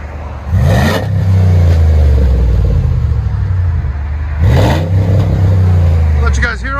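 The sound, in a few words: 2008 Jeep Grand Cherokee 5.7L HEMI V8 Flowmaster exhaust revving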